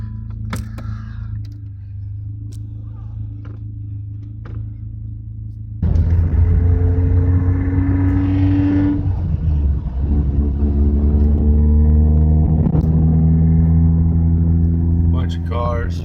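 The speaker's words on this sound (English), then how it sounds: "Bunch of cars, figures." Cars pass on a road during deer season, a loud engine rumble swelling in suddenly and holding steady near the listener after a quieter stretch, with a voice speaking over part of it.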